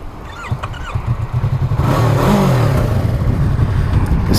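A 2016 Yamaha R3 motorcycle engine revs up loudly and close by, with rhythmic throttle blips building into a sustained, steady roar.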